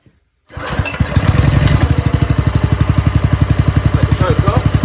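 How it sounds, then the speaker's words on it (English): The small petrol engine on an auction-bought hydraulic power pack cranks and catches after a moment of silence, then runs loud and close with a rapid, rhythmic, thumping idle. "choke is on, fuel is on, got no leaks, engine switch is on."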